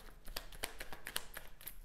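Tarot cards being shuffled by hand, a quiet run of soft papery riffles and taps at a steady rhythm, close and faint, with no talking.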